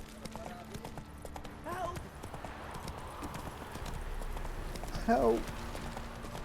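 Roach the horse trots with rhythmic clip-clopping hooves in The Witcher 3, a steady beat under game ambience, with a brief shout and other voices in the game cutting in.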